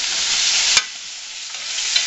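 Flour-dredged chicken pieces sizzle steadily in a hot pan for Spanish chicken and rice, with a brief clack of a piece being set down partway through and no voices.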